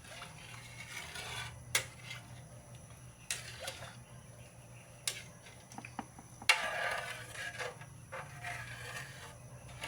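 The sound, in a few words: stirring dinuguan in a pot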